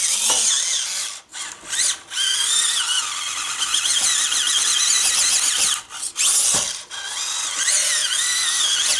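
FMS Atlas 6x6 RC crawler straining up a 60-degree slope, its electric motor whining steadily in a high, wavering tone with short dips and pauses as it loses and regains traction; no talk.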